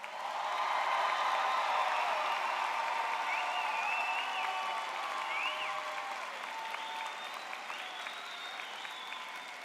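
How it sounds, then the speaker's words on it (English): Applause for graduates at a University of Illinois Chicago College of Nursing spring commencement ceremony, a large audience clapping steadily and continuously, with faint cheers and whistles mixed in. "Let's give them another round of applause."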